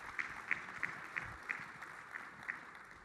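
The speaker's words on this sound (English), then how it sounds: "Round of applause." An audience at a youth sports awards event claps steadily, a faint, distant, even patter of applause with a few sharper claps standing out, no voices over it.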